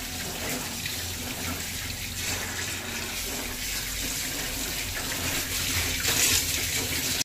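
Fresh bombil (Bombay duck) and bangda (mackerel) fish being washed under running tap water in a kitchen sink, a steady continuous splashing and gushing flow at close range with no talk.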